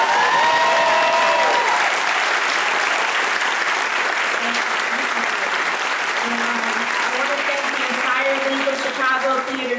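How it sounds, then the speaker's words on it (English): Applause from a theater audience at an industry career fair panel fills the room steadily and loudly, with a few voices calling out over the clapping. "Can we get a round of applause for Marissa for starting?"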